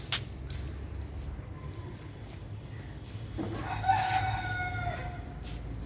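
A rooster crows from a nearby house at dawn in the upscale Dhanmondi area of Dhaka, one drawn-out call rising over steady low city hum and faint background noise.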